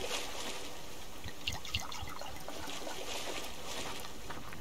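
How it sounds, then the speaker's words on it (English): Water is poured onto a campfire in the survival game Subsistence, giving a continuous trickling, splashing pour with a few brief spatters, close and steady. "putting that fire out."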